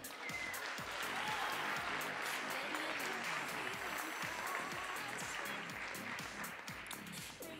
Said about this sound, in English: please give a round of applause to Bulgaria's Kirill Kirov.